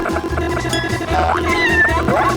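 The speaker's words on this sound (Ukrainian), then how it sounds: "Яке миле кошеня!" A kitten meows several times in a cartoon setting: high, wavering cries rising and falling over a busy background of music or effects, fairly loud and close.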